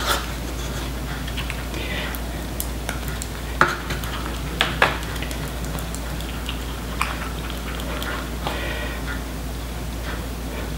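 A stick stirs red mahogany-tinted epoxy in a cup for filling a knot in cherry wood, giving a soft continuous scraping and swishing with a few sharper taps against the container.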